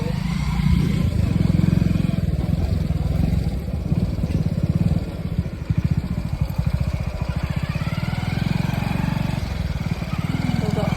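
A motorcycle rides along a damaged, rough road, its engine a steady low rumble with bumpy fluctuations throughout, a voice talking over it at times.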